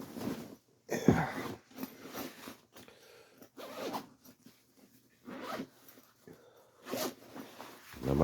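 The zippers on an Italian NC4-09 ballistic vest are pulled open in several rasping, stop-start strokes, close and fairly quiet, with some handling rustle in between.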